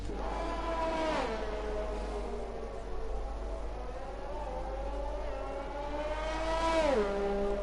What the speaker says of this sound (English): He spins the car back around.